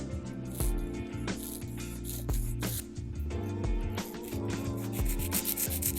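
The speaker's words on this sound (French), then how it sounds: "je passe ensuite à la forme de l'ongle avec la lime à grain moyen" An acrylic nail being shaped into a rounded square with a medium-grit nail file, heard as steady, close rasping strokes in a continuous rhythm over background music.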